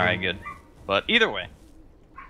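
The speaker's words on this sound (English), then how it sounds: "Sorry about the dogs." Dogs bark and yip in the background of a commentary session on a Dota 2 match, a few sharp barks scattered under and between someone talking.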